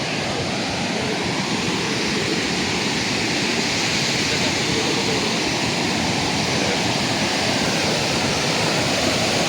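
A waterfall at a coffee garden roars in a steady, loud broadband rush that fills the whole stretch without any break.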